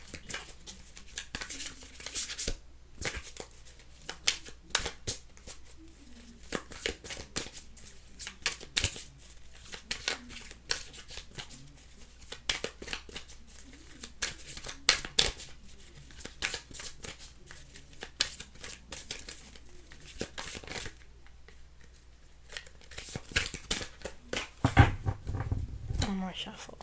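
Soft riffling and flicking of tarot cards being shuffled in repeated short bursts, with brief pauses between, close to the microphone.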